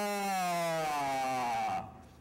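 A voice imitates a father's laboured breathing during a hypoglycemic reaction, one drawn-out, wavering tonal exhale that sinks in pitch and trails off, alone and close.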